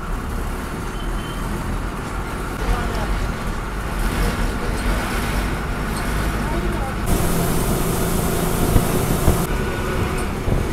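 A bus drives through village streets near Medha on a crowded route from Mahabaleshwar to Satara, giving a steady engine drone and road rumble that swells midway, with a faint background murmur.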